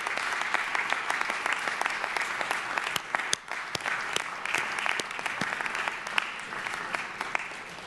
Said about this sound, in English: for them to salute and applaud the parents, friends, spouses, and children